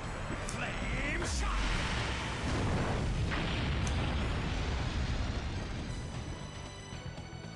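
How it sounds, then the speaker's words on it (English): A Flame Shot fire attack in the Legend of Dragoon game bursts out as a loud, roaring whoosh of flame with booming blasts, sustained for several seconds. "Yeah, flame shot on Miranda."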